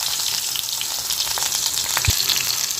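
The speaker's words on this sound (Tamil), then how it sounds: "இப்போ இதை பருப்புக்கு வெங்காயத்தை வதக்கிக்கிறோம்." Onions frying in hot oil for dal, a steady close sizzle with crackling pops and one sharper spit, no talk.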